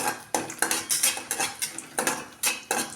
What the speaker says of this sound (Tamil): வரமிளகா வறுத்தாச்சுங்க